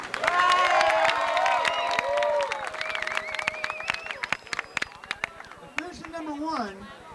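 Clapping and cheering rise from the crowd at a 1991 backyard motocross race in Langtown, scattered claps and whoops alongside a loudspeaker voice and whistle-like tones, fading into sparse claps.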